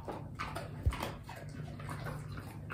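Dogs whimpering softly at home, faint whines scattered over steady low background noise, with one brief louder thump near the middle.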